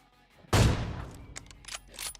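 A loud gunshot bursts from a BGMI mobile battle royale match, followed by a decaying echo and a few faint distant pops and clicks afterward.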